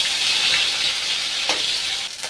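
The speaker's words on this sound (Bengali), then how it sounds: "আলুগুলো ভেজে নিচ্ছি।" Potatoes frying in hot oil for a chicken kasha dish, a steady close sizzle running throughout with a couple of brief louder crackles near the end.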